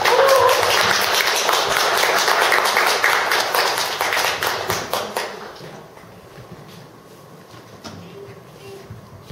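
Audience clapping welcomes the month's guest speaker at a Korean human-library talk event in Daegu, dense and fairly loud at first, then thinning and fading into scattered claps and room noise after about five seconds.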